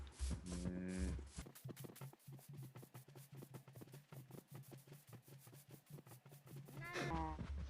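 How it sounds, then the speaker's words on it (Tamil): Cows in Minecraft Pocket Edition moo repeatedly, a few distinct low calls at the start and end, with rapid clicking game sounds in between, fairly close. "ஏன்னா மாடே ஓடி வராங்க பாருங்க"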